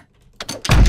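Doors being struck in the zombie survival game The Dead Linger, a few close, heavy wooden thunks in quick succession after a short silence, the last blow loudest.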